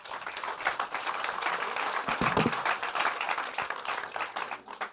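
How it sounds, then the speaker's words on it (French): Audience applause at a public debate on the water crisis, a steady wash of many hands clapping that fills the whole stretch at moderate loudness, with no speech over it. "Vous pouvez les applaudir."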